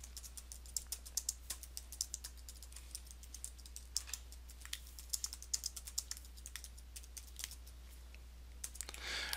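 Typing on a computer keyboard while entering text in Google Docs, with quick irregular key clicks and occasional brief pauses, close-miked and fairly quiet over a low steady hum.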